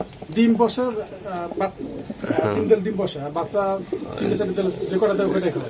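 A racing pigeon hen coos in repeated soft rolling phrases, close by, while people talk over and between the calls.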